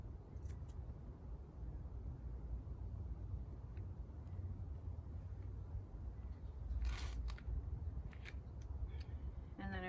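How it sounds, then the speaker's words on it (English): Scissors cut an old T-shirt along the underarm seam: a few quiet, brief snipping bursts over a low, steady background rumble, with no speech. "And cut alongside the underarm seam"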